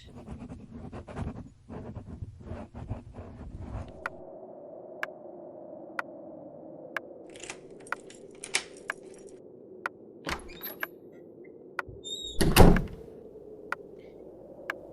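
In a radio drama, keys jangle and a lock clicks, followed by a door creaking open amid scattered ticks and small handling noises, ending in a louder thump near the end.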